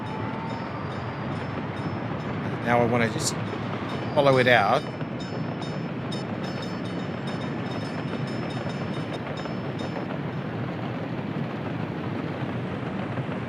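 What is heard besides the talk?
train passing in video game Workers & Resources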